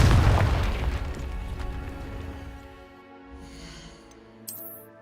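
A single loud booming Confringo fire-spell explosion from the Hogwarts Legacy video game hits at once, then rumbles and fades, with a faint whoosh and a small pop at the end.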